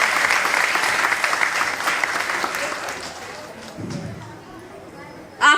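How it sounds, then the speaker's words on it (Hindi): Crowd applause for performers at a Krishna Janmashtami celebration in a Hindu temple, a dense sustained round of clapping that gradually thins and fades, ending with a short sharp sound. "इन कलाकारों के लिए एक बार जोरदार तालियां"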